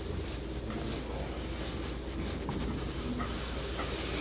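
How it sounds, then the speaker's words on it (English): A steam iron hisses steadily on fabric being sewn, a broad continuous rush of steam lasting throughout, close and even. "Now we're gonna steam it, mist it with our misty bottle"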